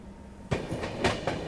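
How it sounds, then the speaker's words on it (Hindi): An ICF-coach train crossing on the Central Railway line at night, heard from aboard a Rajdhani; after a quiet lead-in, a sudden rush of passing carriages brings repeated clattering wheel beats over a steady rumble. "यहाँ पे आईसीएफ गाड़ी कोई क्रॉस हुई है।"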